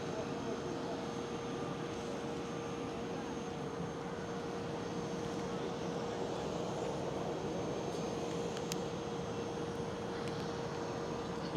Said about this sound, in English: 767 over there, taxiing out